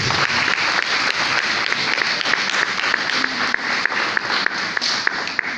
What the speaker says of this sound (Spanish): Levante un aplauso a Jesús.